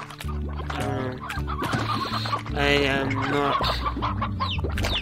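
Rock roosters in the video game Slime Rancher cluck and squawk in a busy overlapping flock, with repeated clucks close by and a louder burst in the middle, while a player speaks briefly over them.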